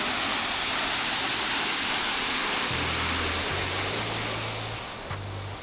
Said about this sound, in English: They have a waterfall.